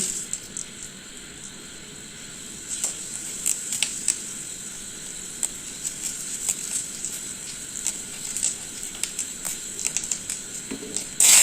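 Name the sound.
dried chili, cumin, bay leaf, whole spices sizzling in hot oil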